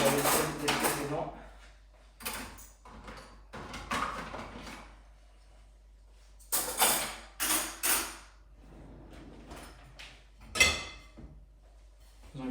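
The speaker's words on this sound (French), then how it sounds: "je range la vaisselle des précédents" Dishes being put away in a home kitchen during housework: scattered clinks and clatters of plates and cutlery, with cupboard or drawer knocks, come in separate bursts between quiet gaps.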